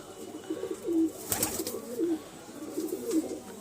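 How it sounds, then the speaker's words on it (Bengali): Loft pigeons flying free overhead coo softly in a slow, repeating pattern, with three low purring coos spaced about a second apart against light outdoor background noise. "এই যে দেখুন উপরে পায়রাগুলো ছাড়া আছে"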